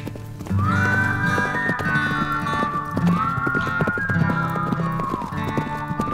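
Camargue horses heard up close, with steady clip-clop hoofbeats running throughout and long neighs rising over them several times.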